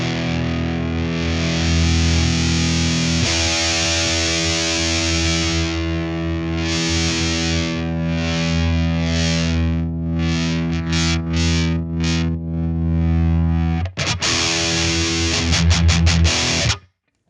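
Electric guitar through an amp with heavy gain distortion, loud sustained distorted chords ringing out, then choppier palm-muted chugs, a brief break, and a final burst before cutting off abruptly.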